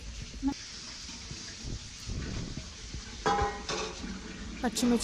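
Two or three bay leaves and green chillies frying in oil in a pressure cooker, a close sizzle and hiss with scattered pan knocks and clatter, louder bursts near the end.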